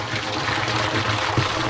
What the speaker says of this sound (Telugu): నీళ్ళు ఎలా పోస్తుంది